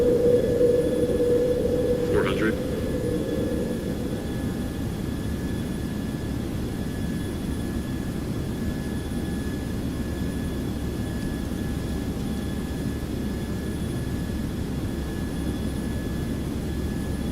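MD-11 jet engines run at climb thrust in the X-Plane 12 flight simulator, a steady broad roar heard from the cockpit, with a brief tone and a short chirp in the opening seconds.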